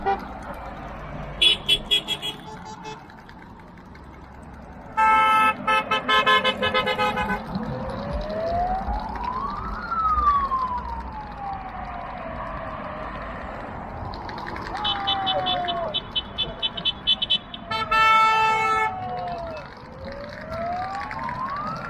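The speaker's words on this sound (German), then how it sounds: "ist schon ein Teil des Werbetrosses mit seinen auffälligen und laut hupenden Fahrzeugen vorbeigezogen" Vehicles of the Arctic Race of Norway publicity caravan pass through the small village of Överbygd, honking loudly in repeated bursts with siren-like rising and falling tones, moving past over outdoor background noise.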